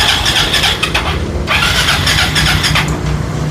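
Yamaha Fino scooter engine starting and running loudly up close, a dense steady mechanical drone with a brief dip midway.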